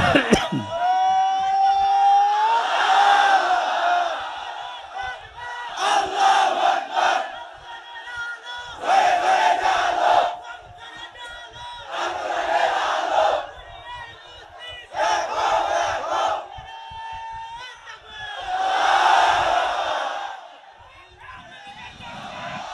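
A large crowd at an outdoor Islamic religious gathering in Shibganj, Chapainawabganj shouts Allahu Akbar in loud unison after each takbir call from the preacher, roaring in repeated bursts of about two seconds with brief pauses between.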